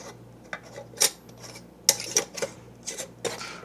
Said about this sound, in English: now I can put the lids on. And just finger tight.